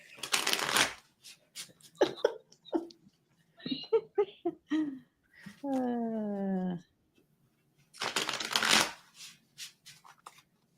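Playing cards shuffled by hand during an intuitive tarot reading, heard as two loud bursts of riffling at the start and end, with talk, laughter and a sustained tone in between.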